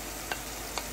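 Fresh and dried shrimp frying in spiced oil make a steady, close sizzle with two brief clicks of a utensil against the pan; no one speaks.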